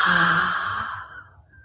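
A deep, slow exhaled breath during a calm yoga session, a long airy sigh up close that fades smoothly to silence.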